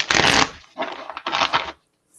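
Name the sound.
shuffling a deck of cards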